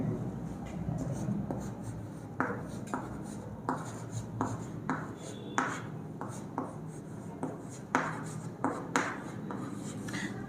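Chalk or marker scratching across a board in short repeated strokes, moderately close, over a steady low room hum with no talk.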